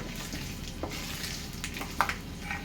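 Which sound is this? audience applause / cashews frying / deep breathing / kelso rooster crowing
cashews frying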